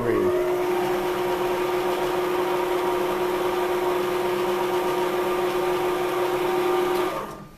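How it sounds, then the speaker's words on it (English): A CHEFTRONIC stand mixer motor whirs steadily at a constant pitch on speed level 3, a loud, even mechanical hum that stops abruptly at the end. "let's go ahead and run the CHEFTRONIC at about a level 3"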